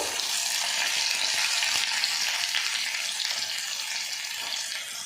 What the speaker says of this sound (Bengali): এবারে এর মধ্যে মশলা মাখানো বেগুনগুলো দিয়ে দেব।